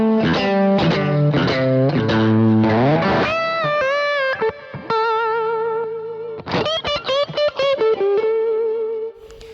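A BOSS GX-10 "Chewy lead" preset on electric guitar, heard as a distorted, chorused lead. Fast picked phrases give way to sustained, bent and vibrato notes, then a burst of quick runs and a held note that decays.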